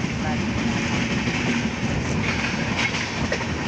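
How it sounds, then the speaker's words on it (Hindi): A train runs along the single track past Patranga on the Barabanki–Ayodhya line, a continuous loud rumble of wheels with faint clickety-clack over the rails throughout. "जिस ट्रैक से अभी हमारी ट्रेन निकल रही है पटरंगा से"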